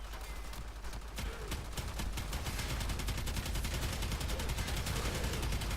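Twin Kohmak weapon firing in a video game, a dense, continuous rapid stream of gunfire shots, loud and close, with a short lull near the start and no talking.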